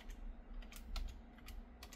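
Keys tap on a computer keyboard while a file is renamed, a quick irregular string of faint clicks over low background hum.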